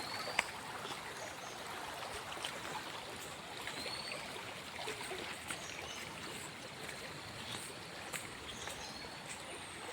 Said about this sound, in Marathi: पाणी कसं वाहत जातं आणि त्याचा आनंद आम्ही घेऊ शकतो